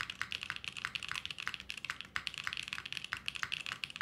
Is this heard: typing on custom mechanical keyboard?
yes